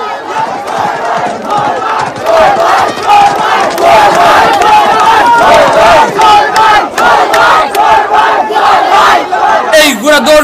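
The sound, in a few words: crowd cheering and clapping at a horse race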